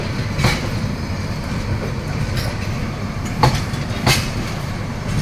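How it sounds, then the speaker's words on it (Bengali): The Rangpur Express intercity train pulls out of Dhaka with a steady clickety-clack of wheels on rails and a few sharp rattling clanks, close and continuous, with no voices. "ঢাকা থেকে ছেড়ে যাচ্ছে আন্তনগর রংপুর এক্সপ্রেস"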